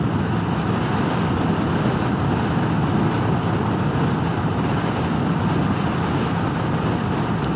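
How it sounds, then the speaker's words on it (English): Loud, steady wind roar buffets the microphone with a constant low rumble while riding a 2021 Honda Rebel 1100 motorcycle at speed on a very windy day, with no voices. "the wind is just cranking today"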